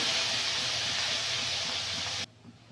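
Lentils (dal) fry in a pan with chopped onion in a village kitchen, a steady close sizzling hiss that holds evenly, then cuts off abruptly near the end.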